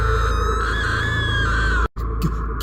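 A woman lets out a loud, sustained scream in a horror story scene, shrill and wavering before cutting off abruptly, followed by a brief quieter tail.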